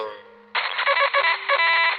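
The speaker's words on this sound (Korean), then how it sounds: "곧바로 다시 전화가 왔다." A telephone rings as a sound effect in a horror story narration, a loud electronic warble that pulses in quick repeated bursts after a brief lead-in tone.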